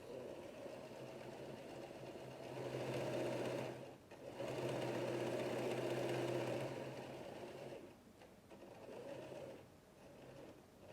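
A sewing machine runs in bursts of rapid stitching along a half-inch seam on a fabric face mask, pausing briefly between runs, fairly quiet and close with no talk.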